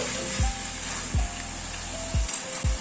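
A pointed gourd curry with a little water bubbles in a pan, a steady dense sizzle close up, marked by a few soft knocks, with no one speaking.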